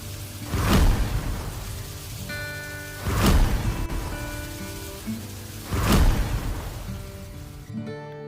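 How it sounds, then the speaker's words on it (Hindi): Heavy rain pours steadily with three big surging swells, each rising and fading, while soft music plays underneath. "एक बार बारिश बहुत तेज होने लगी।"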